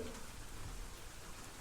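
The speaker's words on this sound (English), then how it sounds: "I could hear the rain as it continued to pelt the archaic roof above me" Steady rain pelts an old roof overhead, a faint even hiss of drops with no distinct impacts or voices throughout.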